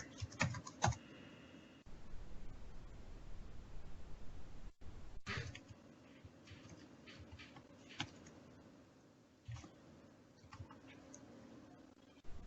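Keystrokes on a computer keyboard while a file is renamed, short bursts of clicking with pauses between them, fairly quiet and close, with no talking.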